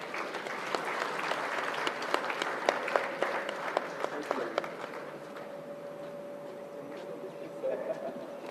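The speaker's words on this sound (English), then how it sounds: "Please give a big round of applause." An audience at a Constitution Day event applauds, with lively sharp clapping that thins out and fades while talk continues over it.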